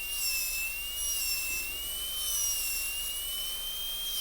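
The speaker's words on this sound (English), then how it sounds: "Now recut this whole corner with the burr leaning axially and facially." A dental burr cuts the distal box of a tooth prepared for a gold onlay, giving a steady, faint, high-pitched whine that wavers slightly in pitch and continues throughout with no talk.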